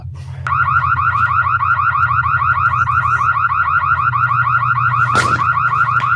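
A car-style electronic alarm blares loud and steady from a video played on an iPad, its repeating warbling tone cycling rapidly over a low background hum, with a brief noisy burst near the end.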